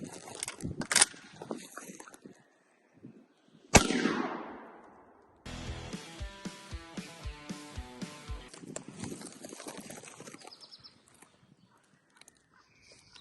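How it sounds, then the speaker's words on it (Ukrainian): A sharp, loud shotgun blast of No. 7 shot, 28 g load, at a 25-metre shooting range cracks once with a long decaying tail, preceded by a few smaller clicks and followed by rattling, rhythmic mechanical clatter. "Стріляємо."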